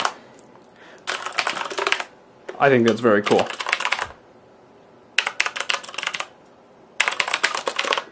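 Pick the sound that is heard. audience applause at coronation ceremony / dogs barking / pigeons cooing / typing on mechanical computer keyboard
typing on mechanical computer keyboard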